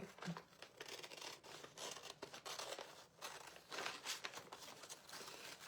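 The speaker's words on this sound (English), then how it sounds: "So let me cut it in case you don't want it ripped." Scissors cut through a thin rice paper napkin, making faint, dry, papery snips and rustles in quick, irregular bursts close by.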